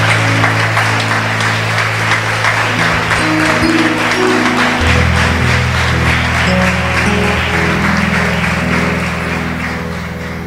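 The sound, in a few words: congregation applauding in church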